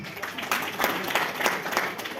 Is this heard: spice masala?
no